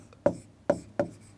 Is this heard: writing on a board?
yes